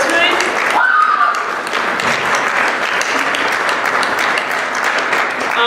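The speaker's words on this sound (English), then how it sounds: "Can we give them a round of applause for their work tonight?" A dessert theater audience applauds steadily and loudly, a dense wash of clapping that fills the whole stretch without letting up.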